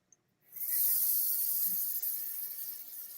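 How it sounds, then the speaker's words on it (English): Leftover yellow cookie-decorating color sprayed into a trash can with an airbrush, a steady close hiss starting after a short pause and running unbroken for nearly three seconds. "So I should spray what's left in the trash can just to get rid of it."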